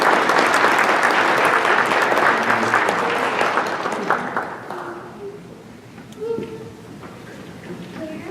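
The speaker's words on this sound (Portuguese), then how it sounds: "Vamos dar uma bonita salva de palmas." A church congregation applauds during Sunday Mass, lively clapping for about four seconds that fades out, leaving faint room sounds and a few scattered voices.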